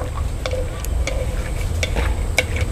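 Oil sizzles steadily in a pan as food fries until golden, with soft crackles and scattered sharp ticks from stirring or a utensil against the pan.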